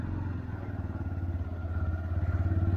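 A motorcycle rides through Diu city in Gujarat, its engine a close, steady low rhythmic thrum with pulsing beats that grow slightly louder toward the end.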